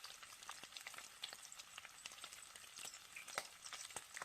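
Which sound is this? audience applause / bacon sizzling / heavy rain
bacon sizzling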